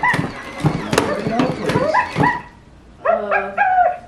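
A small dog barks and yips in quick bursts, close by, mixed with people talking, then a short run of higher whimpering yelps at the end.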